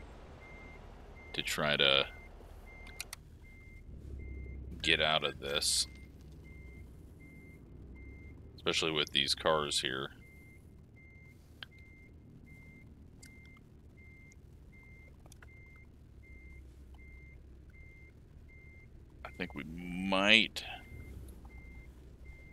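A truck in American Truck Simulator reverses with steady, evenly spaced beeps that run softly under someone talking in short bursts over a low engine hum.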